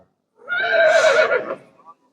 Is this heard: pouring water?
no